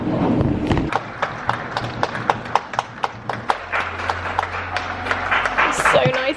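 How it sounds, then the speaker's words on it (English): Neighbours clap outdoors in a residential street, a steady run of sharp, fairly close hand claps with scattered further applause behind, over low background hum and faint voices. "The NHS clapping is happening again"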